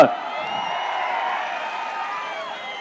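Crowd at a political rally bursts into sustained clapping and cheering, a broad, steady roar of applause from a large gathering that holds at an even level throughout.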